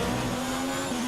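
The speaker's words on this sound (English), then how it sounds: "I will just not get as much power from the engine as I would like, because it's just a worn engine" Worn race car engine in the F1 2019 video game, a steady high-pitched drone with a constant tone that slurs slightly near the end, heard alone and loud throughout.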